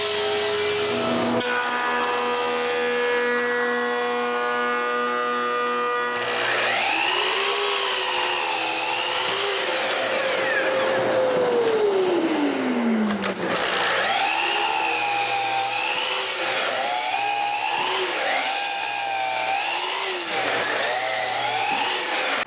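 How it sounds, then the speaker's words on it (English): A power saw rips corner pieces from a 2x12 board, its whining motor rising and sagging in pitch again and again as the blade bites and frees up, loud and close with no talk. "Then I rip the corner pieces from a 2x12."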